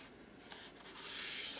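Paper crinkles and rubs softly as an art journal page is folded in half, starting with faint rustles and ending in a louder, longer scraping crease.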